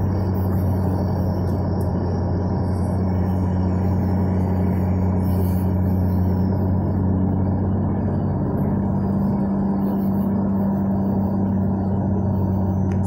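A 2020 BMW M2 Competition with M Performance parts cruises at night around 45 mph and just over 2,000 RPM, heard from inside the cabin as a constant, loud, low engine and road drone.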